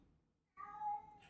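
A house cat named Jasper gives a single short meow, close and fairly quiet, after a moment of near silence.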